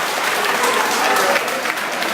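An audience at a daylong discourse event bursts into dense, sustained applause, a steady wash of many hands clapping together with no pauses.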